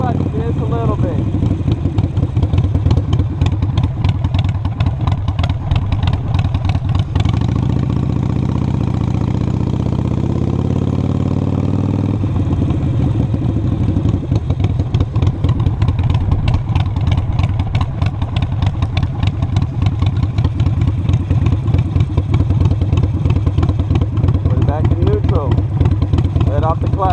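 A motorcycle engine idles with a steady, close mechanical chug, then its pitch rises as the bike pulls away and settles into a running drone; a rider talks over the engine at times.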